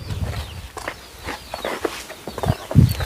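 A chicken clucks outdoors in short, close, choppy calls, with faint shuffling steps and background noise around it.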